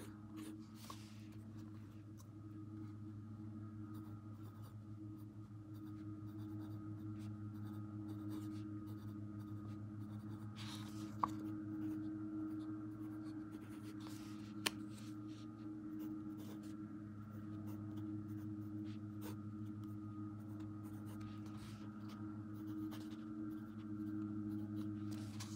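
Soft, scratchy strokes from a broad-nib fountain pen drawing an ink swatch on paper, quiet and close over a steady low background hum, with a couple of small taps.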